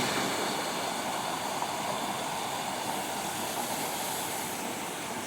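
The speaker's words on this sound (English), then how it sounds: "You see that beautiful little waterfall way back here in the back?" A small waterfall along the Roaring Fork Nature Trail gives off a steady, broadband rush of falling water. It sounds continuous and moderately loud, with no pauses or voices.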